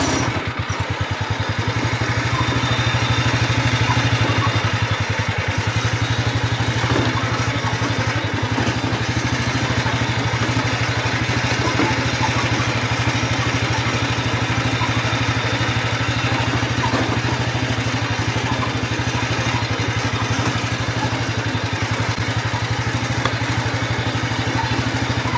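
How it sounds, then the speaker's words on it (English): A 1970-72 Sears Compact 7 lawn tractor engine labours up a slight incline, a steady close, low chugging drone that holds throughout with faint clatter, no speech. "There you can hear it lugging, going up just a tiny incline."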